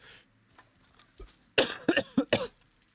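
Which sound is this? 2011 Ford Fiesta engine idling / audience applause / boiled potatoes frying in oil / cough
cough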